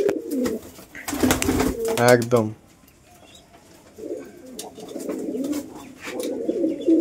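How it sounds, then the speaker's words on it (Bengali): Indian Giribaz pigeons coo in a loft, soft repeated throaty coos close by, broken by bursts of someone talking and clearer pigeon calls throughout. "কোয়ালিটি ফুল পায়রা, সব কোয়ালিটি ফুল পায়রা"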